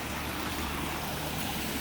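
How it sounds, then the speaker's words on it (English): The main waterfall of a backyard ecosystem pond in a food forest spills steadily in midsummer, giving a continuous broadband rush of falling water, close and even, with no voices. "The main waterfall is here"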